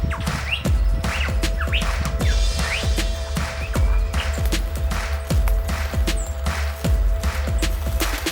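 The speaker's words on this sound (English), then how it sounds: "Further down the mountain we managed to hear this lyre bird before we actually managed to spot it." On a mountain, a lyrebird calls with repeated sharp chirps and whistled notes in a steady rhythm against a constant low background hum, with no talk.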